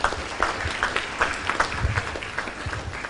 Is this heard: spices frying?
no